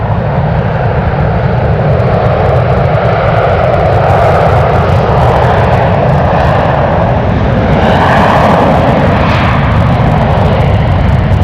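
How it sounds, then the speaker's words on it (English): An Asiana Airbus A380 passes overhead near San Francisco as a loud, continuous jet roar, a broad rumbling rush that holds steady throughout with a slight rising swell partway through. "Big A380 flying above us."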